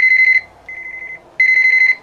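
A Panasonic KX-TC1450W 900MHz cordless telephone beeps in three rapid bursts of repeated electronic tones, loud and close, with a short gap between each burst.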